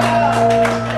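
A crowd of audience members applauds and shouts out loud together as a show-of-hands style vote on whether an image is a photo, a short burst over a steady tonal hum.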